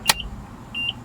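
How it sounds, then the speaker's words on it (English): A sharp click followed by two short electronic beeps from a 1982 Nissan 720 King Cab mini truck, the second held slightly longer, with a quiet interior hum underneath. "I like that beeping sound."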